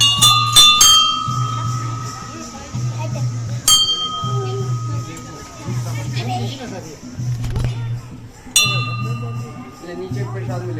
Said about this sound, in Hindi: बजा घंटी